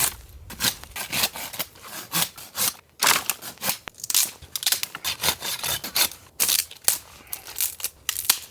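Firewood is cut by hand at a winter tent campsite in a break in the rain, with rhythmic back-and-forth saw strokes rasping through wood, close and fairly loud, in uneven bursts with brief pauses.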